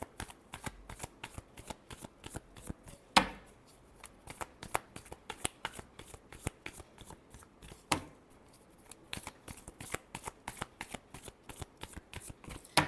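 Tarot cards being shuffled by hand, a rapid run of crisp riffling flicks and taps repeating steadily up close, with a couple of louder slaps of the deck along the way and no talking.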